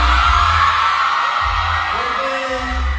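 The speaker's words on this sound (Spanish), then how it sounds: "Esta emoción embarga a todos los fanáticos que gritan, gritan al verlo" Fans at a packed welcome event in Campeche shout and cheer in a loud, continuous crowd roar with deep booming rumble underneath.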